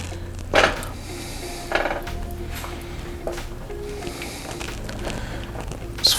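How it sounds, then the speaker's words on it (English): A spoon stirring clam chowder in a cooking pot, heard as a few clanks and scrapes of metal against the pot over a low steady background, no talk. "Now we want to stir all this around."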